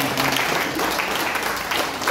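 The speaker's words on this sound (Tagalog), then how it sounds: "At pumalakpak ng malakas sa ating Panginoon." A church congregation claps for the Lord, a loud, continuous burst of many hands with some voices faintly mixed into the crowd noise.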